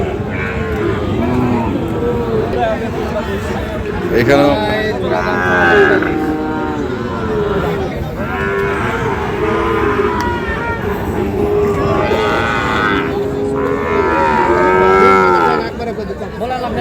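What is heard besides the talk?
cattle mooing at a cattle market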